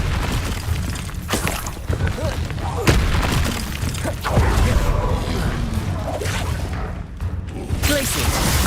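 Confringo blasting spell explosions in the Hogwarts Legacy video game, repeated booming blasts and crackling impacts in a busy combat mix, loud and close, with brief voiced spell calls between them.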